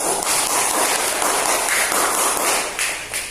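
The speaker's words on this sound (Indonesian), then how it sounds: "Kelompok 2 ya, tepuk tangan." Classroom applause for group 2, a steady, fairly loud crowd of hands clapping continuously for about three seconds.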